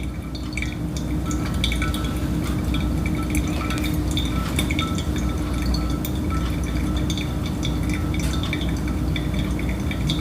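Hot water is poured over ground Ethiopian coffee in a V60 dripper. A steady, close splash and trickle continues for about ten seconds with a low hum underneath.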